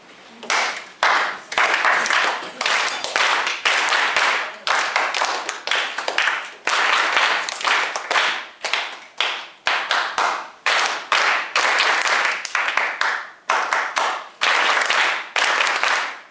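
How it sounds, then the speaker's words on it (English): Group of audience members clapping short rhythms in unison at a tap ensemble demonstration, sharp bursts of claps separated by brief pauses, repeating call-and-response patterns for about sixteen seconds. "I'll clap a rhythm, and then I want you to repeat it"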